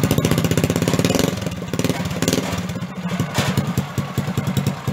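A motorcycle engine fitted to a homemade farm tiller with a cooling fan and a lawnmower-style throttle runs loud and near, its rapid firing pulses speeding up and slowing as the throttle is opened and eased.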